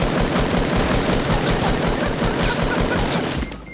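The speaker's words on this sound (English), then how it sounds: "they're shooting us" Sustained, loud automatic gunfire in the Fortnite video game, a dense continuous burst of rapid shots running almost the whole way before tapering off at the end.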